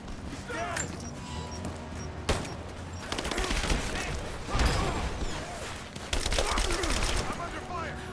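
Gunfire crackles in the Tomb Raider remake, bursts of rapid automatic shots and single cracks amid mechanical clatter and rumble, a louder volley near the middle and another toward the end, with voices speaking underneath.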